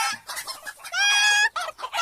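A cartoon hen clucks repeatedly in short bursts, close by, with one longer drawn-out squawk in the middle; no talking.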